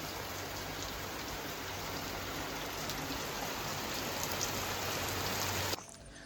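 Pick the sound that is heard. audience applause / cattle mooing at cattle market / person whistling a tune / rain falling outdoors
rain falling outdoors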